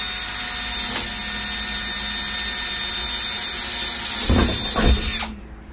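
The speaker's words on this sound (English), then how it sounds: "I drilled 3 holes over here" A power drill bores holes through a wooden jig, a steady high whine running for several seconds with two brief heavier bites into the material near the end before it stops.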